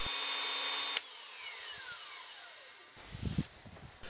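A Milwaukee annular cutter bores a 3/4 inch hole, giving a high steady drilling whine that winds down and stops, followed by a few low knocks.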